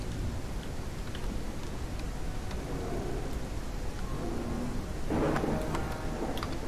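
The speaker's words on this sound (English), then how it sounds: "Ooh, we got Thunderstorm" Heavy rain hisses continuously during a thunderstorm in the dinosaur survival game The Isle, with a louder rumbling burst near the end that suggests thunder.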